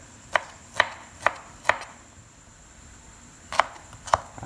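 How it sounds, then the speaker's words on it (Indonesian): A knife chops shallots into small pieces on a cutting board, with sharp, evenly spaced knocks in two groups, four then two, separated by a short pause, close and clear with no talking. "bawang merah juga dipotong menjadi bagian kecil-kecil ya, supaya proses penghalusannya lebih mudah"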